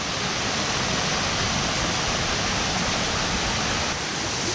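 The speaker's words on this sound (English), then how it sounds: "You can see the river there coming down." The river coming down at Janet's Foss, a waterfall in Malham, pours in a steady broadband rush of falling water, loud and close, unbroken throughout with no voices.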